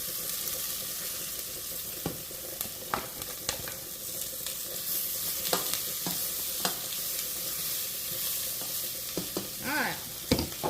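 Chopped onions sizzle steadily in hot oil with Italian seasonings, a continuous close frying hiss broken by scattered clicks and scrapes of a utensil stirring the pan.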